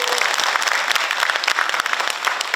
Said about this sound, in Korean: 이성국 도당 청년위원장께 다시 한번 큰 박수 부탁드립니다